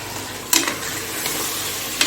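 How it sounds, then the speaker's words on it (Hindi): Tomatoes frying in a pan for a Bannu painda dish, with a low steady sizzle and two brief spatula scrapes against the metal. "इसमें बुनाई कर दूंगी, ताकि जो टमाटर है वो नरम हो जाए"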